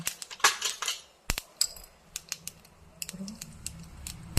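Mustard seeds pop in hot oil as sharp, scattered crackles at uneven intervals, close and fairly loud against a quiet background.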